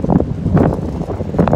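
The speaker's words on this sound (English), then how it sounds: "It's still windy out here." Gusty wind rumbles against the microphone at the Long Beach LIRR train station in uneven low surges, fairly loud, with no talking.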